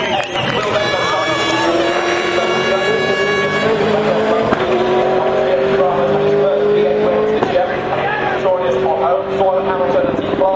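A race car engine whines past at high revs with shifting pitch at Bathurst's Mount Panorama circuit during the 2011 top-ten shootout, under continuous loud commentary.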